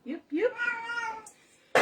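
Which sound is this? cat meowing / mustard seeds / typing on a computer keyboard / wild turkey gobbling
cat meowing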